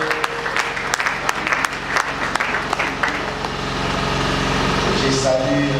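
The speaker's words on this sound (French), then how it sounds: "On acclame très fort la parole." Church congregation applauding at a Sunday service, a steady wash of clapping that fades out as a low engine-like hum takes over, with voices mixed in.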